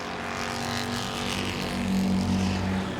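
Super Street race cars run door to door on the back straightaway at Langley Speedway, their engines forming a loud, continuous roar that swells slightly as they hold side by side.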